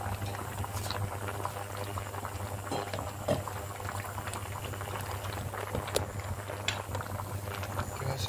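Pot of spinach and corn soup with salt bubbling at a steady simmer, a continuous close wash of boiling with scattered small pops and clinks, no one speaking.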